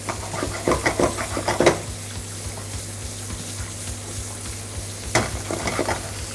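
Onions and colored peppers fry in a pan for beef noodles, with a steady close sizzle under a low hum, broken by clusters of clattering stirs near the start and again near the end.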